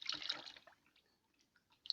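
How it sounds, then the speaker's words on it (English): Oil for homemade bar soap, a liter of palm oil, is poured into a container, a brief close splash and glugging burst that fades into faint dribbles, then one last small splash. "I'm going to pour my oil here"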